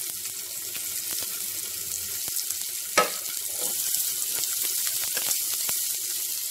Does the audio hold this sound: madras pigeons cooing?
no